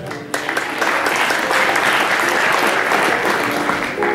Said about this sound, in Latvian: Aplaus Lindai